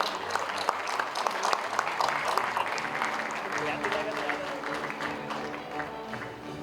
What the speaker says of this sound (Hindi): तालियां रुकनी नहीं चाहिए लेडीज एंड जेंटलमैन।